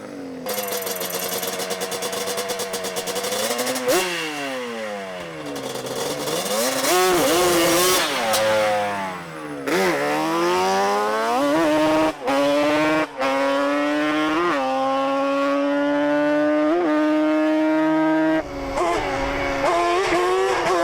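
An ATV engine screams hard through repeated gear pulls on a drag pass, its pitch climbing and falling with each shift in several loud, sustained waves close to the microphone.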